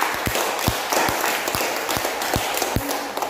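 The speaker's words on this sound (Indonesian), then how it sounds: "Tepuk tangan dulu untuk semua." A classroom of students claps together for a teacher's lesson video, with sharp, evenly spaced hand claps over a busy background of scattered clapping and room noise.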